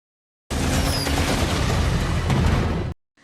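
Gunfire and explosions from a battleship-style war vehicle in the 2008 film Death Race: a loud, continuous barrage of rapid shots and blasts lasting a few seconds before cutting off abruptly.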